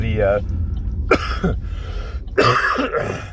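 A person coughs and clears their throat a few times, close by, with bits of speech and low background rumble between the bursts.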